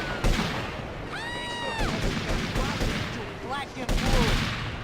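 Video game gunfire from a shooter, heard as repeated loud bursts of shots with sharp impacts across the clip, mixed with other game effects and some voices.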